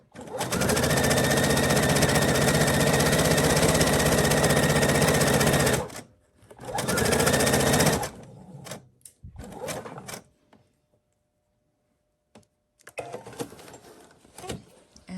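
Sewing machine chain piecing half rectangle triangles, a loud close continuous whirring run of stitching, a second shorter burst, then scattered clicks and fabric handling noises before quieter rustling.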